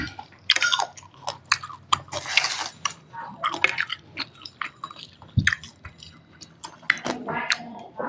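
Close, wet chewing and biting of spicy crab papaya salad, with irregular crunchy bites and mouth sounds, a few light clinks of cutlery or dishes, and soft murmured sounds between mouthfuls.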